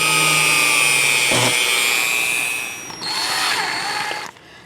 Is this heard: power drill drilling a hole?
yes